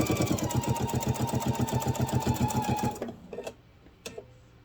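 A sewing machine stitches fabric for a grocery bag in a fast, rhythmic mechanical chatter that runs steadily for about three seconds, then stops, followed by a few light clicks and handling taps.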